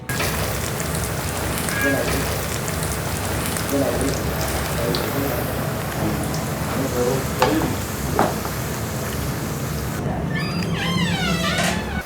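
Sliced beetroot fries in hot sesame oil with a loud, dense, continuous sizzle and crackle throughout, and occasional stirring and scraping in the pan.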